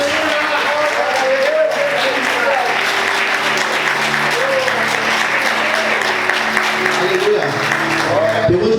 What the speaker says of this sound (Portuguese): Pode aplaudir Jesus por isso?